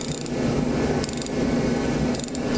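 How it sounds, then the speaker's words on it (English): A ratchet wrench loosening bolts on a Jet Star 3, with quick metallic clicking bursts repeating roughly every second over a steady mechanical background hum. "I'm gonna have to use the wrench all the way on all these"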